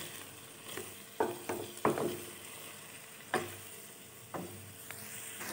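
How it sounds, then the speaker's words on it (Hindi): Vegetables frying in a pan for chicken vegetable fried rice, a quiet steady sizzle broken by several scraping stirs of a spatula, fairly soft and close with no voices. "मैं इन सब्जियों को थोड़ा सा फ्राई कर लूँ"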